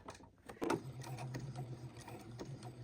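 A sewing machine stitching a fabric bib, a steady close mechanical hum with a soft repeating needle clatter after a brief handling noise at the start, no voices.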